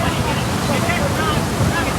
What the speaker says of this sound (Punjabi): ਪਾਣੀ ਵੱਧ ਗਿਆ ਬਹੁਤ ਜ਼ਿਆਦਾ ਵੇਖੋ ਪਾਣੀ ਦੀ ਸਪੀਡ ਵੇਖੋ ਤੁਸੀਂ